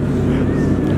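A loud Audi R8 sports car engine roars steadily with a rough low rumble and a thin high whine riding over it, with exhaust crackles, brief and continuous.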